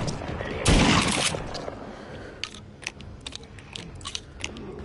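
A pump shotgun fires once in a zombie VR game, a loud broad blast near the start, followed by quieter clicks and mechanical clacks of the action being worked.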